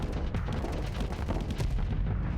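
Pila weapons firing from a ship in the space combat game Starsector, a dense continuous barrage of booming, rumbling blasts that stays loud and steady without a break.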